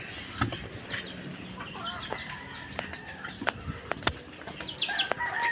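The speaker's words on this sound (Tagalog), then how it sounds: "Mga manok naman ang pakakainin." Chickens at feeding time in a backyard coop cluck and chatter continuously, with several overlapping calls near and far and occasional sharp knocks.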